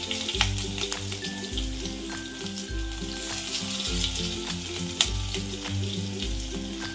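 Cumin seeds, mustard seeds and thinly sliced onion sizzle in hot oil at close range, crackling steadily with a few sharp pops, while a low background tone carries underneath.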